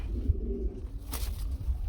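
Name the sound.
pigeons cooing at a pigeon farm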